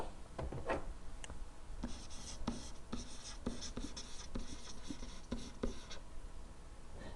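Writing out calculus math work by hand, a steady close scratching of pen or pencil on paper with rhythmic strokes and light taps, continuous and fairly quiet with no talking.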